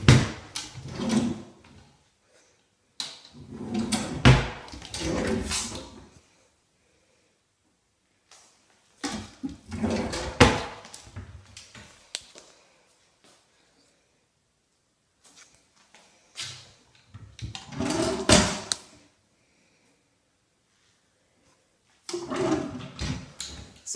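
Drawers are pulled open and pushed shut during a house inventory, several rounds of wooden sliding and thudding clatter separated by quiet gaps, close and fairly loud.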